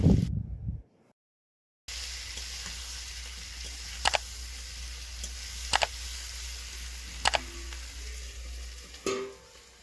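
Fried potatoes drop into a pan of sizzling spice mix with ridge gourd for a fish curry, giving a steady close frying hiss broken by a few sharp clinks and stirring scrapes after a short silence.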